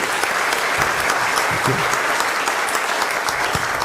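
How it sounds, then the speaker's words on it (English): Applause fills the room for an audience at an evening entrepreneurs' event, a dense, steady wash of many hands clapping that holds at full strength throughout. "So give yourself a round of applause for being here."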